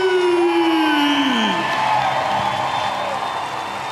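A stadium crowd at a baseball game cheers and applauds Red Sox Hall of Famer Bill Lee. A sustained wash of clapping and cheering carries a descending whistle or whoop near the start, holding steady and loud before easing slightly.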